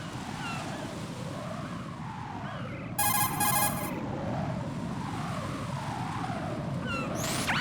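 A cell phone rings in Metal Gear Solid 2, a short burst of electronic ringing cutting in over a steady wash of ocean-like ambient noise, with a second brief ring starting near the end.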